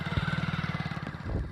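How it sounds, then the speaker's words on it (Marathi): A Bullet motorcycle comes up from behind on a rural road, its engine thumping in a steady, fast rhythm, then fading as another low rumble swells at the end. "आणि मागून बुलेट आलेली कोणीतरी"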